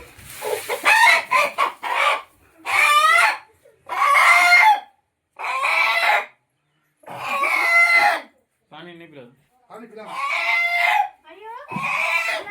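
Chickens cluck in loud, repeated bursts while a rooster crows, the calls near and separated by short pauses, with people talking nearby between and over them.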